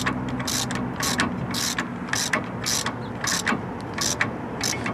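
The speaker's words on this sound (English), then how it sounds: "you'll be able to tighten back up your nut that goes on your axle itself" A hand ratchet tightens the axle nut during a lower ball joint replacement on a vehicle, giving repeated bursts of rapid pawl clicking in a steady on-off rhythm, close and fairly loud, with no talking.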